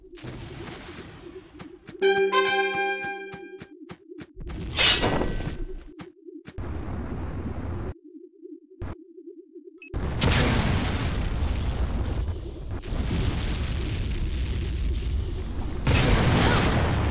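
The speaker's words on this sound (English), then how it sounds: "Enemy generator destroyed!" An enemy generator blows up in the Tribes 2 video game during a Capture the Flag match, with heavy booming explosions and gunfire bursts scattered across a busy battle soundscape, loud and close, with a tonal alert beeping early on.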